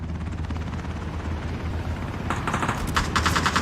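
A helicopter in the shooter game Ring of Elysium whirs steadily while rapid bursts of gunfire crackle in over it toward the end.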